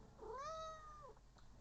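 A single drawn-out cat meow, clear and fairly close, rising then falling in pitch over about a second, with no voices present.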